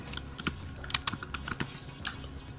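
Text being typed on a computer keyboard, a close run of crisp, uneven key clicks across the whole stretch, with no talking.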